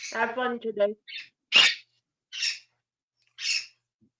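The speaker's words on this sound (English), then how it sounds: "Sorry about the birds." Pet birds squawking loudly indoors, several sharp harsh calls spaced about a second apart, close to the microphone, following a brief spoken phrase.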